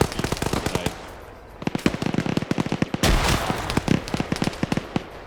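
In a competitive multiplayer shooter match, rapid bursts of automatic gunfire crackle almost without pause, and a grenade explosion booms out heavily in the middle, dense and close.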